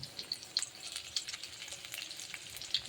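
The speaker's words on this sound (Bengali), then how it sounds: "একটু আলুটাকে ভেজে নিলে তাহলে ভালো হবে" Potatoes frying in a pan with salt and turmeric for a drumstick and fish curry, a soft, close sizzle with scattered crackling pops and light stirring.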